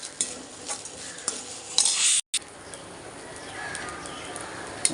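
Fresh coconut is sautéed briefly in a pan, giving a soft sizzle with scattered clinks and scrapes of stirring and a short moment of silence partway through.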